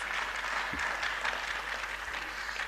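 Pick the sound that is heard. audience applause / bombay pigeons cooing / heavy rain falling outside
audience applause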